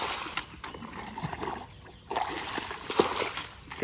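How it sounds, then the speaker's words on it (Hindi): Water sloshes and splashes as a bucket scoops it out of a backyard fish pond, with irregular close splatters and a louder splash burst near the end. "तो बाल्टी से पानी निकालेंगे पहले"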